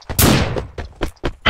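Several heavy booming blasts in quick succession, loud and punchy, with short gaps between shots like game cannon fire.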